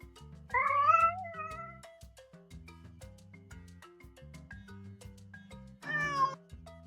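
Cat meows in a talking-like way, with two distinct drawn-out vocal calls, one near the start and one near the end, over a quiet background of faint tapping and music.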